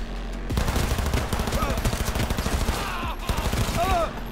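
Rapid gunfire rattles in the Cyberpunk 2077 video game, fast repeated shots in dense bursts with a brief pause near the middle, moderately loud, with faint squeaky game sounds toward the end.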